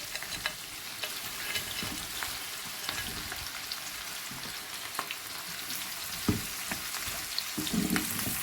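Chicken pieces sizzle steadily in a hot pan for a Korean sweet and sour chicken, with a spoon scraping and stirring now and then and a few louder knocks against the pan; no voices.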